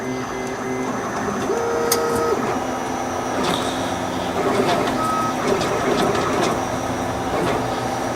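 A home-built 3D printer runs continuously with whirring stepper motor tones and short pitched beeps and glides, loud and close, while a person speaks briefly over it.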